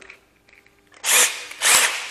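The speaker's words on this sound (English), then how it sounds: "I'm going to take this counter bit, put it into the drill." A power drill fitted with a countersink bit whirs in two close, loud bursts of roughly a quarter-second and a third of a second each, separated by a brief pause, after a second of near silence.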